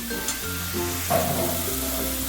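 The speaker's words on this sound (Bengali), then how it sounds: "একটু অল্প জল দিয়ে আমি মশলাটাকে ভালো করে কষিয়ে নেবো" Spice paste sizzling as it is fried with a little water while cooking a Bengali bhola fish curry with spring onion stalks, a close, continuous crackling hiss with a brief stirring scrape, no talking.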